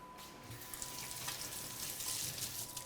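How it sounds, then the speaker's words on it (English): A kitchen tap runs steadily while hands are rinsed beneath it, a soft continuous hiss and splash of water at low volume with no talking. "I'm gonna rinse my hands now"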